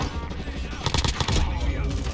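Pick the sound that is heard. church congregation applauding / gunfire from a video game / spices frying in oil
gunfire from a video game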